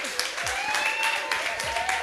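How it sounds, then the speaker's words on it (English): An audience at a product day event gives a short burst of applause, with scattered claps close by and a voice talking over them. "Give a round of applause for Dickson Nsofor."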